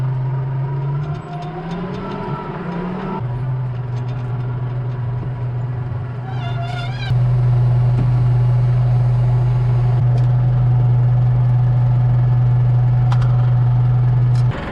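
New Holland tractor engine idling on a farm, a steady low rumble that holds throughout and grows slightly louder partway, with a few faint clinks in the background.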